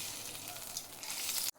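Ghee sizzling in a hot kadai on a gas flame, a steady close crackling hiss that holds evenly throughout and then cuts off abruptly at the end.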